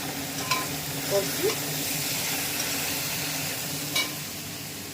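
Eggplant sizzles in a hot frying pan, a steady crackling hiss broken by a few scraping stirs of a utensil, with a woman's brief word heard over it.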